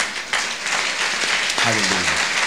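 Church congregation applauding and cheering God in praise, a steady wash of clapping and crowd noise throughout, with a voice rising over it near the end.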